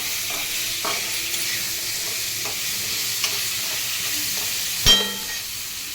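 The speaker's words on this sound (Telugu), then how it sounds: "పోపులు వేగిన తర్వాత ముక్కలు వేసుకున్నాం ఫ్రెండ్స్. తర్వాత ఇవి కొంచెం ఫ్రై చేసుకోవాలి" Bitter gourd pieces fry in a pan right after the tempering spices, giving a steady close sizzle broken by scraping stirs and a sharper clatter near the end.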